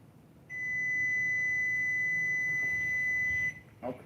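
A kitchen timer sounds a steady, piercing electronic tone held for about three seconds, fairly loud against a quiet room, then stops, followed by a short clatter.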